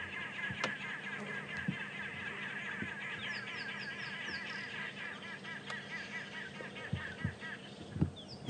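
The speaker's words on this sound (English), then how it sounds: "The birds you can hear in the background are called arrow-marked babblers" Arrow-marked babblers give a busy, chattering chorus in the background of a morning African bush scene near impala and guinea fowl, heard as faint, continuous overlapping calls with a few scattered louder clicks.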